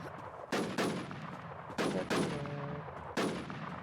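Gunfire in the video game SurvivalZ: three loud, close bursts of shots about 1.3 seconds apart, each ringing out into a lingering tail, with no talk.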